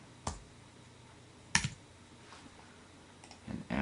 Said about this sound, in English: I can come over here and I can type in BUDDHA,